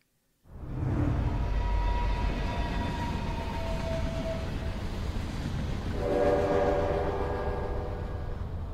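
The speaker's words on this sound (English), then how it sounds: "I'll start the train." Train starting up in the video game Eternights: a low rumbling engine rises abruptly from silence, with long sustained horn-like tones, then a second brighter horn blast partway through, loud and continuous.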